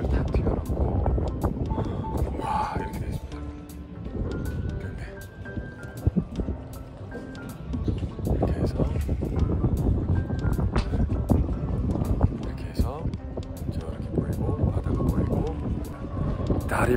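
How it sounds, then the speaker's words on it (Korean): Strong wind buffets and roars across the seaside near a lighthouse, a steady gusty rush throughout with a person talking over it. "바람 소리 때문에 잘 안 들을 겁니다, 여러분."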